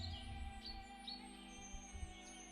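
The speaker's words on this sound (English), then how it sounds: "she swears she can hear little birds chirping around her wherever she goes" Little birds chirp in a sound effect, several short, high, faint tweets spread across a steady humming musical backdrop, with no voices.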